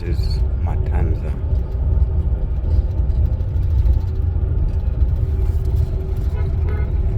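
A car drives through Havana with a steady low engine and road rumble, and a voice talks over it the whole time.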